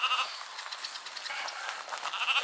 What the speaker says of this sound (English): So this is one of our Michels Mountain Sheep crosses.